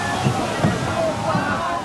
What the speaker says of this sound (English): not only got the sound of the crashing water, but also got the subsequent trickling of the water below